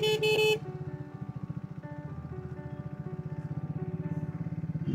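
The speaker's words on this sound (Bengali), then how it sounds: "এত বড় জ্যাম ফারাক্কার।" Road traffic jam near Farakka bridge on the route from Murshidabad to Siliguri: a loud close car horn blast at the start, then a steady pulsing motorcycle engine idling nearby with a faint distant honk later.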